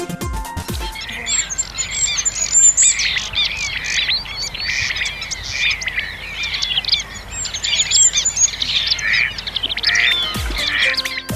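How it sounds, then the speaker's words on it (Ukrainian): Dense chorus of nightingales, turtle doves, jays and magpies in an arboretum park, with bright overlapping chirps, trills and squawks going on steadily and close throughout, with no talking. "А солов'ї, горлиці, сойки, сороки беруть найвищі ноти симфонії настрою."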